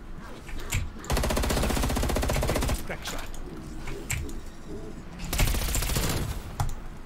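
Rapid automatic gunfire in a zombies shooter game, a long sustained burst followed by a second burst, loud and dense, with scattered game effects around it.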